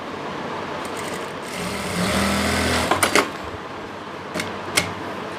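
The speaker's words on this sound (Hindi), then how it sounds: "इस तरह से रखते हुए लास्टिक को इस तरीके से खींचेंगे और सिलाई लगा लेंगे।" A sewing machine stitches elastic onto palazzo pants in a short whirring burst of a second or so, followed by a few sharp clicks and clatters of the fabric being handled.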